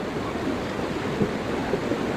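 Floodwater rushes in a swollen river near a hanging bridge, making a steady, dense roar with no voices.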